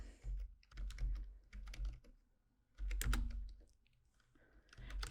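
Fast bursts of typing on a computer keyboard while entering a LaTeX exam solution, clustered clicks in several runs separated by short pauses, close and fairly quiet with no talk.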